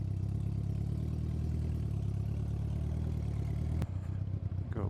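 A custom bobber motorcycle engine idles nearby with a steady, loud rumbling chug, then a sharp click and a brief change in tone near the end.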